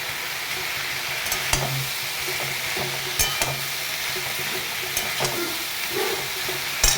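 Salt, turmeric, cumin powder and ginger paste with tomato sautéing in a pan, giving a steady soft sizzle with occasional scrapes and knocks of stirring.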